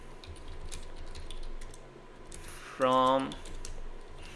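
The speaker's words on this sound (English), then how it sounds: "let's type one simple prompt here" Fingers type on a computer keyboard in a quiet room, a spread of light, irregular key clicks running beneath a man's speech.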